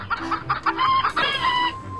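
Chickens cluck in short, busy bursts, with a longer crowing call toward the end, fairly close and alone without talk.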